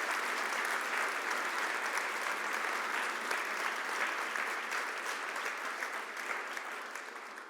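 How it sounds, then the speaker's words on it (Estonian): A large audience in a hall at a presentation event applauds crowdfunding supporters, producing dense, loud, continuous clapping that fades slightly toward the end. "Teeme neile suure aplausi"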